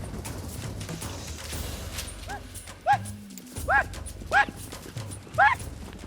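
Lavradeiro horses galloping with riders, their hoofbeats a steady clatter under a busy outdoor backdrop, broken by several sharp rising whistle-like calls toward the end.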